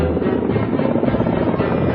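Kamov Ka-15 two-seat ship-based naval helicopter in flight, a loud, steady rotor and engine drone with a rapid pulsing beat, heard alone and continuous.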